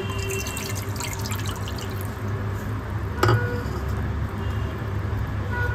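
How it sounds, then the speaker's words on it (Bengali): Water poured into a kadai pan on a stove, a steady close trickle and splash running throughout with one brief louder clatter near the middle, no talk. "एरपर आमी एर मধ্যে परिमाण मतो जल दिए नेब"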